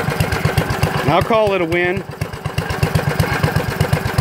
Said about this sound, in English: And now I'm running this generator, albeit half-assed.